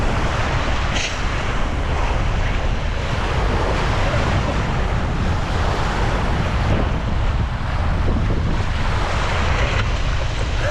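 Continuous roar of surf and wind, loud and unbroken throughout, with heavy wind buffeting the microphone and no voices.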